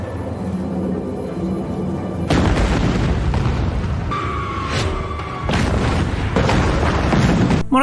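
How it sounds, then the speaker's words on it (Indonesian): Bombs exploding in a war film battle scene, with heavy booms bursting in over a rumbling background, one whistling descending tone before a blast, and loud, dense impacts repeated across the scene. "Mereka menjatuhkan bom dan membuat asap agar pihak Cina kebingungan."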